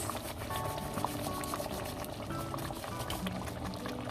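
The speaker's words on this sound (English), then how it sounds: "So now our curry is simmering for about 5 to 7 minutes" Matar paneer curry of peas and cottage cheese simmering in a pan, giving a steady low bubbling and gentle popping that continues evenly throughout, close and moderately quiet with no talk.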